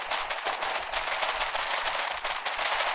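Dense, continuous gunfire from a war video game, rapid overlapping shots and bursts sounding close and loud throughout with no pauses, in a large-scale battle in a war game.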